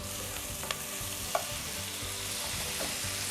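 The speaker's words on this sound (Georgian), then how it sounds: "მაღალ ცეცხლზე თითქმის დაწვამდე, ბოლომდე არა, მაგრამ კარგად უნდა დავბრაწოთ ხახვი და სოკო" Onions and mushrooms browning in a pan over high heat for a beef and mushroom stew, a steady close sizzle with a few sharp clicks of a utensil against the pan.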